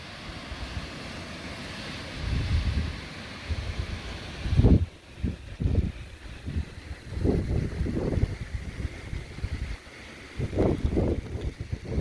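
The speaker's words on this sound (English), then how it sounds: "we definitely got a little bit of a blizzard going on" Blizzard wind blows during a snowstorm beside a trailer, roaring steadily into the microphone with heavy buffeting gusts that rise and fall in surges.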